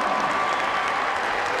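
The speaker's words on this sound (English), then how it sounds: "Crowd is excited." Crowd at a college wrestling match between Michigan and Virginia cheers and applauds steadily, a dense, loud wash of clapping and voices filling the arena throughout.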